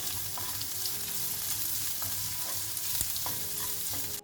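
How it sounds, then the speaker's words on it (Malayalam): Chopped onions sautéing in oil in a pan for a palak egg curry, giving a continuous close sizzle with occasional stirring scrapes and clinks, no talking. "സവാള ഇട്ട് കൊടുക്കാം. ഇതൊന്ന് വഴറ്റിയെടുക്കണം."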